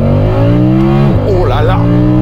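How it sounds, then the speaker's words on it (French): Audi R8 Spyder Performance with the roof down doing a launch, engine roaring loud and close as revs climb steeply, drop sharply at a gear change and climb again, with a voice exclaiming over it. "petite accélération, vous allez voir ce que c'est qu'une Audi R8. Je vais faire un petit launch."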